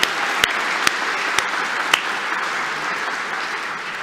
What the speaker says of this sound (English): Big round of applause for Steffi